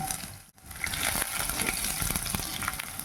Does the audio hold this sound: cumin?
yes